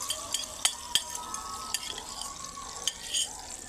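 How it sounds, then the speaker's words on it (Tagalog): An egg fries in hot oil in a pan, giving a faint continuous sizzle with scattered light clicks and scrapes of a utensil, close and quiet with no talking. "Na mainit na ang kawali at mantika, ilagay na natin ang itlog."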